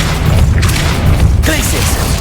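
Confringo fire spell blast in the Hogwarts Legacy video game, a loud booming burst amid ongoing game effects and a spoken voice, with a sharp crackling impact near the end.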